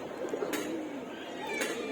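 Soft coos from high-flying pattern pigeon chicks rise over a steady hiss of background noise, a few low murmuring calls close by, with brief brighter bursts partway through.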